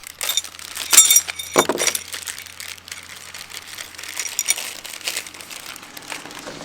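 Plastic packaging of a Metabo HPT NR83A5S framing nail gun being torn open: crisp crinkling and tearing, with two sharp rips early on, then continuous rustling and crackling, close and alone.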